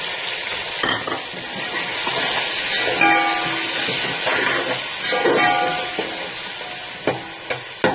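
Finely chopped tomatoes frying in a pan for Dhaba-style sarson ka saag, a continuous sizzle broken by several stirring scrapes and knocks, with a few sharp clacks near the end.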